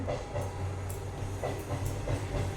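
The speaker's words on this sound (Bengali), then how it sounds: "এক্ষুনি ট্রেনটা ঢুকবে, হর্ন দিতে দিতে আস্তে শুনতে পাচ্ছি" A train rumbles past at a distance, a low steady drone carrying a faint, rhythmic clatter of wheels on the rails.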